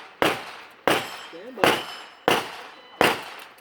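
Five sharp revolver gunshots from an Accelerator revolver at an outdoor shooting range, evenly spaced about 0.7 seconds apart, each a loud crack with a short decaying tail; a brief voice speaks between shots.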